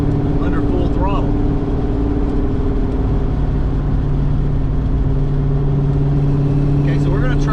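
A car engine fitted with 19-pound injectors roars loudly under full throttle, a sustained heavy drone with rising pitch sweeps as it pulls, close and continuous throughout.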